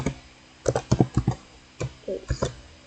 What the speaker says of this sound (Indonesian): lalu kita ketikkan nano.ssh/authorize